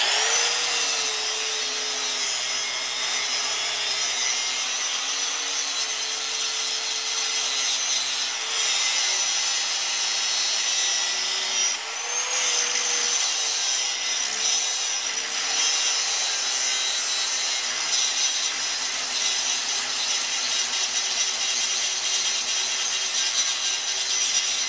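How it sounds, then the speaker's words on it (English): Rusty steering hubs being ground down with a power grinder, a steady harsh abrasive whine and rasp that holds nearly unbroken at close range for the whole stretch, with no one speaking. "Now we grind."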